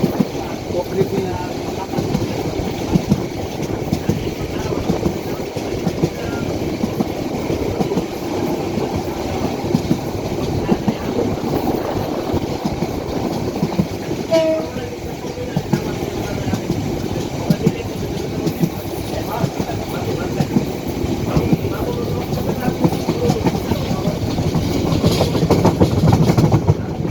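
A passenger train runs toward Bhairab station, recorded from inside, with a loud continuous rumble and rhythmic clickety-clack of wheels on rails throughout, and faint voices underneath.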